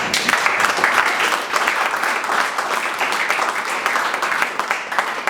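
An audience applauds after a poetry reading, dense and continuous clapping from many hands, steady and fairly loud throughout, with no voices standing out.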